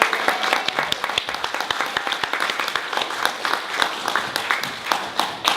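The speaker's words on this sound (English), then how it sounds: "Another round of applause for B1." Dense applause from a crowd at a school spring performance, steady crisp clapping throughout with no pauses, fairly loud and close.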